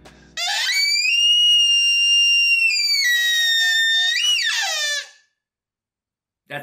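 A novelty horn sounded in celebration, one long loud bleating blast with a wavering pitch that bends near the end, followed by a short silence.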